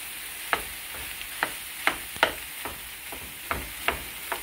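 Shrimp fried rice sizzles steadily in a hot pan while a utensil scrapes and stirs it in irregular clinks, close and continuous with no talking.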